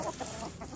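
Chickens clucking softly at close range, a brief, fairly quiet burst of overlapping fowl chatter with no voices.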